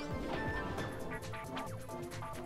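In the Ratchet & Clank video game, a wrench smashes a chicken, with several quick whacks and crashes over a busy bed of game sound effects, fairly dense and continuous.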